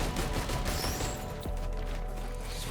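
Gunfire rattles in the video game Risk of Rain 2 as a dense, continuous run of rapid shots over busy game noise, loud and close throughout.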